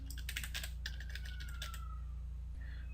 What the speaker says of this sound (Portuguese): eu vou digitar aqui erro.